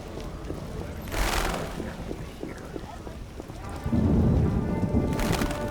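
Rain and thunder in the video game The Witcher, steady rainfall with rumbling thunder swelling twice, while people talk and something clops faintly in the background.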